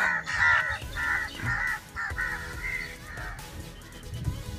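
A flock of noisy crows caws repeatedly, harsh overlapping calls coming in steady bursts from several birds at moderate distance, with no voices.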